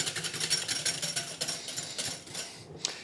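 A single egg is beaten hard with a whisk, giving a fast, fairly quiet rhythmic clatter of rapid strokes against the bowl, with no talking.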